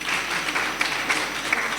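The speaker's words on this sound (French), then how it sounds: "Applaudissez si vous appréciez." Audience applause at a book signing for Jacqueline Fatima Bocoum, a brief, steady burst of clapping from a gathered crowd, fairly loud and close, with no talk over it.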